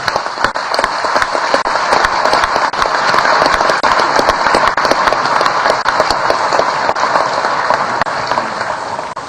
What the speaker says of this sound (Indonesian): Sepatutnya lah sekali lagi kita berikan aplaus kepada beliau.